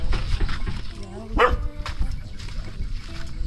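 Dog barking outdoors beside a river, a single sharp bark rising briefly over steady rushing water and low background noise.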